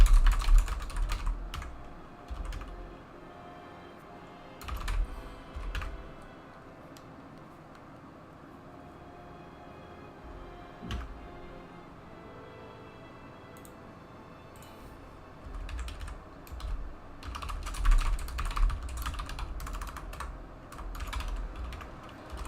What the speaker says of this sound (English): I'm having so much trouble typing.